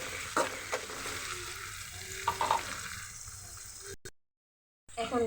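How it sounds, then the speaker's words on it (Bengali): Spice paste of onion, chili, ginger and garlic frying in a pan, a close steady sizzle with a few stirring clicks, then a brief cut to silence before the frying resumes. "মশলাটা আমি ভেজে নেব।"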